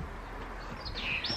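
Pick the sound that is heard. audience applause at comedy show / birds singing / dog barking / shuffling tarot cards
birds singing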